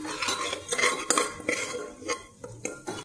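Spices for a potato curry are sautéed in a pan with a metal spoon scraping and clinking against it in a brisk, irregular rhythm, close up over only a faint hiss of frying.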